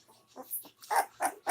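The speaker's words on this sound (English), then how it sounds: "He barked too." A dog gives a series of short yelps and barks, starting faint and soft, then three louder, sharper barks close together toward the end.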